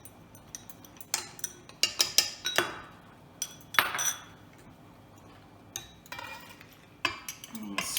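A utensil scrapes foamy yeast and egg from a cup into a bowl of dry ingredients for barmbrack, with a run of sharp clinks and scrapes against the cup and bowl, close and irregular.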